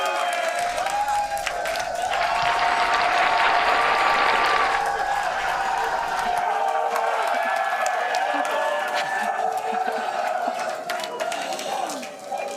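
Crowd at a Starship flight test launch site, with steady broad murmur, applause and cheering building early then holding as a dense continuous wash, voices mixed throughout.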